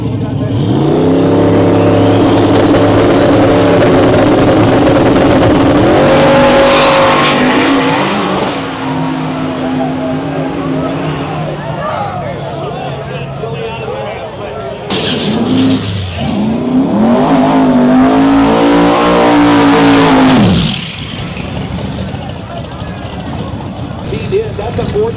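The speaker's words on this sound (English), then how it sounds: "that's a 427 LS crammed into that Miata." Mazda Miata fitted with a 427 LS V8 roaring down a drag strip, two loud passes of hard acceleration with rising engine pitch, mixed with other race car noise and a voice talking over it.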